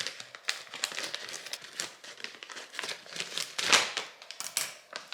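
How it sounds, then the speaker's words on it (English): Scissors snip and crinkle through plastic candy-melt packaging while decorating red velvet cupcakes, a close, busy run of crackling, rustling cuts lasting several seconds. "let's do it with my handy dandy scissors"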